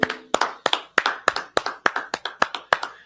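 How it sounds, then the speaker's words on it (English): A small class claps together at the start of a scripture class, about a dozen sharp, evenly spaced claps in a steady rhythm, close and loud, with no speech. "All right, let's clap it up."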